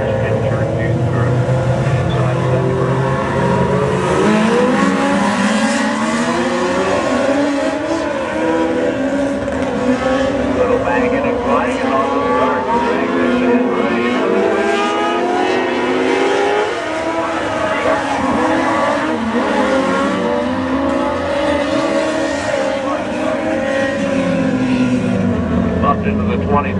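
Mod-lite race cars roaring around a track during a feature race, their engines droning and shifting pitch continuously beneath an announcer's running commentary.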